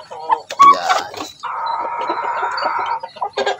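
Chickens cluck close by in short bursts, followed by a sustained, steady vocal call and a few more clucks at the end, from Basilan and Rhode Island Red breeding chickens.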